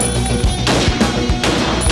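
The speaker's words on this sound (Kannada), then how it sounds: "ಯಲಹಂಕದ ಕೋಗಿಲು ಕ್ರಾಸ್ ಬಳಿ ಸರಣಿ ಗುಂಡಿನ ಸದ್ದು." Gunfire rings out in a series of shots at a traffic signal near Kogilu Cross in Yelahanka, Bengaluru, with several sharp bursts spaced a fraction of a second apart over steady loud background noise.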